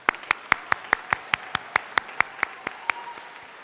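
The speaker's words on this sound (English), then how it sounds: "Give them another round of applause." Graduation ceremony audience clapping, heard as a sparse, evenly spaced run of sharp individual claps about five per second, fairly quiet with a faint room murmur behind.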